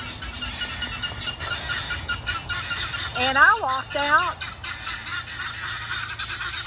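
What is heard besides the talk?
guinea fowl calling in alarm at buzzards overhead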